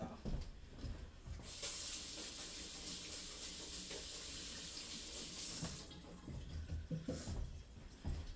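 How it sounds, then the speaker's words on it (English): Tap water runs into a sink while hands are washed under it, a steady rushing hiss close by that eases slightly near the end, with a few faint clunks. "Let me wash my hands off."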